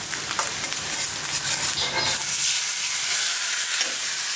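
Onions and green chilies sizzle in leftover fish-frying oil in a pan, a continuous close crackle with soft stirring scrapes throughout.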